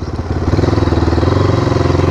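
A dirt bike motorcycle engine idles loud and close, a steady rapid pulsing thump that evens out after a brief uneven start, with no voices.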